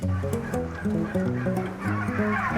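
Live turkeys on a turkey farm make a dense flock chorus of overlapping gobbles and warbling calls, steady and fairly loud, with many birds calling at once.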